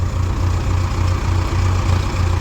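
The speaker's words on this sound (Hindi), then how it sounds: "दोनों ट्रैक्टरों ने लगाई ताकत।" Heavy farm tractor engines, a Holland 3630 and a 4x4 with a Novo 605, labour together to pull a stuck tractor free, a loud continuous low diesel rumble with pulsing throb, close by.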